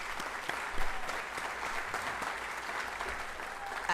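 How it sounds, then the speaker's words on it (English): An audience applauding at a school district board of trustees meeting, steady clapping from a room of people, moderately loud and continuous. "let's give her another round of applause."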